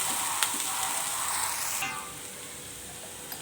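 Spices and dried fish (sukat) sizzling in a pan, a steady hiss of frying with a brief brighter burst early on that drops to a softer, quieter sizzle for the remainder.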